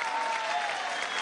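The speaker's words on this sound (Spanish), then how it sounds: "Un aplauso a la misión en amor mayor" Crowd applause at a Venezuelan presidential council gathering with Maduro, a dense, even wash of many hands clapping, loud and continuous for the whole brief moment.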